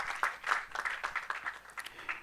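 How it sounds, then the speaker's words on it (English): Audience applause welcoming a panelist at a corporate governance panel discussion in Ghana, a short stretch of scattered clapping, fairly faint and seemingly distant, with no voices over it. "Shall we please welcome him with a round of applause?"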